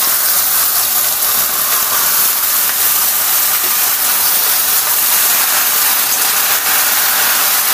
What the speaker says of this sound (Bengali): মাশরুমগুলো আমি তাহলে তেলে ছেড়ে দিচ্ছি। এগুলোকে আমাকে একটু ফ্রাই করে নিতে হবে।